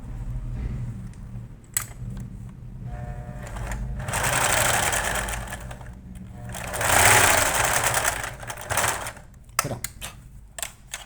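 A sewing machine runs in several bursts, stitching across a fabric strip for an elephant-shaped teether toy, with steady mechanical whirring that swells louder midway, then short stops and a few clicks near the end.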